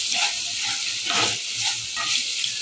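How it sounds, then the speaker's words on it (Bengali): Dried fish sizzles in a pan of fried onion, garlic, chili and turmeric paste, a brief, steady close crackle with soft stirring, and no talking. "পেঁয়াজ বাটা, রসুন বাটা দিয়ে আর মরিচ করে হলুদ দিয়ে মশলাটা ভালো করে কষিয়ে নিয়ে শুটকিটা ছেড়ে দিয়েছি"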